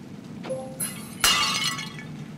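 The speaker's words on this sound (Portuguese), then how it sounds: "Quebra essa estátua." A statue shattering in the video game Little Nightmares II, with a faint tone and chime leading into a sharp, loud crash of breaking glassy debris that rings and scatters briefly before fading.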